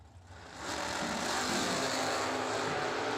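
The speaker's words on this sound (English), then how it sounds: "that beautiful wheel standing Camaro" A wheel-standing Camaro drag car launches at London Dragway, its loud engine roaring and building from a lower rumble into a sustained, close, full-throttle blast with no talking.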